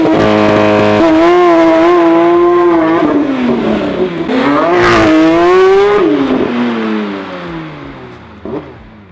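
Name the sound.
Porsche 992 GT3 RS factory exhaust revving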